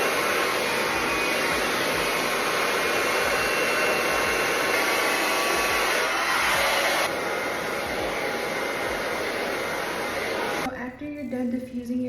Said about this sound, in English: Done diffusing your hair